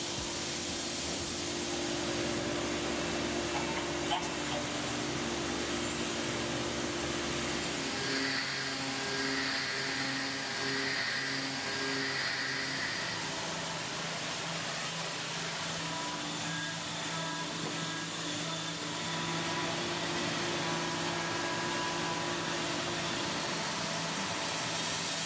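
A CNC machine steadily milling one half of an ice press mold on a parallel toolpath, a continuous broadband whir and hiss with a tonal shift partway through, no talking.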